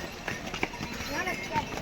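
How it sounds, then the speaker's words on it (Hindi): Horse hooves clip-clopping on the mountain pilgrimage trail to Kedarnath, with quick irregular hoof knocks mixed into the sounds of a busy path and people talking nearby. "घोड़ा"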